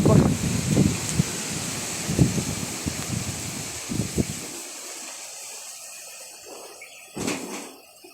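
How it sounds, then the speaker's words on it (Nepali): Strong wind gusts roar and buffet the microphone in low rumbling bursts, easing midway and then rising again near the end. "हावा चाहिँ बेसरी चलेको छ।"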